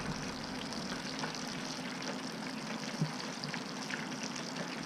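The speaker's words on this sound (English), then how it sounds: "When you fry the perch fillets with the skin on, it does make them curl up." Perch fillets coated in coarse cornmeal batter fry in hot oil, giving a steady, even crackle and hiss that runs unbroken throughout at a moderate level, with no voices over it.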